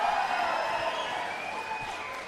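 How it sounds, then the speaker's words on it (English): A crowd at a finals match claps and cheers in a brief steady wash of applause, moderately loud and fading slightly. "Oh, yes, the crowd gets involved."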